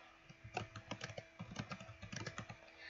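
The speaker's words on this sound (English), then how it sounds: "I'll build content, add an item, type my topic" Rapid, uneven keystrokes on a computer keyboard, close and clear, a burst of typing lasting a few seconds with short pauses and no voices.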